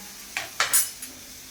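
Onions and tomato being mixed in a small pan, with a few brief scraping and clinking strokes of a utensil against the pan over a quiet background, no voices.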